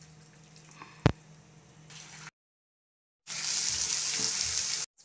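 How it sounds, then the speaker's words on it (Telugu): Chicken is dropped into hot oil left from frying onions for an Andhra-style chicken dum biryani. A brief clatter and a low background hiss give way, after a pause, to a loud, steady sizzle. "ఆయిల్ అందులోనే ఉంది, అందులో చికెన్ వేసుకోవాలి"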